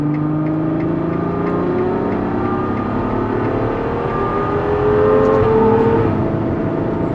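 A Ferrari GTC4 Lusso V12 engine revs steadily, its layered harmonics rising and falling as the pitch climbs, swelling louder near the end, heard close and continuous with no talking.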